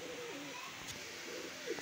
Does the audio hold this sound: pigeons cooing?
yes